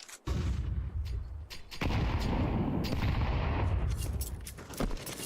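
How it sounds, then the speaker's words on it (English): Grenade blasts and gunfire in a Counter-Strike match: sharp close shots and booming explosions in rapid bursts, loud and dense, with almost no talk. "Dumping a bunch of nades here, GamerLegion."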